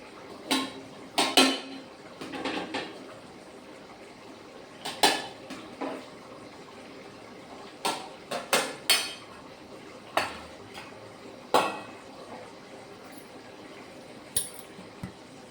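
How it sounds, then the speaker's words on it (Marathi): Hot rice being served onto a plate with a metal spoon, giving a scattered series of sharp clinks and scrapes against the dish, fairly quiet and close, with pauses between scoops. "छान असं गरम गरमच आपण ताटामध्ये वाढून घेऊया म्हटलं"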